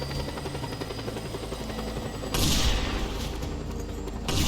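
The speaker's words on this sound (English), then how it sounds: "That's probably the helicopter blowing up right now." A helicopter whirs under scattered gunfire in an open-world action game set on the island of Panau, then a sudden loud blast erupts as it explodes. A second burst hits at the very end.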